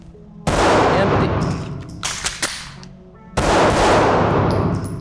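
Handgun shots fired before an emergency reload: two loud, sharp reports a few seconds apart, each with a long ringing decay, and a few small metallic clicks between them.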